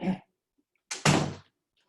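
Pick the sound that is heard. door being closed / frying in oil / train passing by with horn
door being closed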